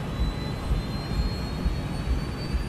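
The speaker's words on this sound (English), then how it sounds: "The crew monitors the speed as they accelerate down the runway." A Malaysia Airlines jet accelerates down the runway on takeoff with a loud, steady jet-engine roar and deep rumble, heard close and continuously throughout.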